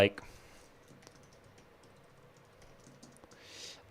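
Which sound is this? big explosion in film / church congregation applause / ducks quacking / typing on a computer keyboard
typing on a computer keyboard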